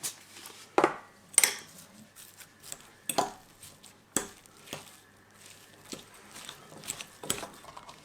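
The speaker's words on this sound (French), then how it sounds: "on va bien mélanger notre farce maintenant" Mushroom stuffing seasoned with salt and pepper being stirred in a bowl: a series of irregular clinks and scrapes of a utensil against the dish, close and fairly quiet, with short gaps between strokes.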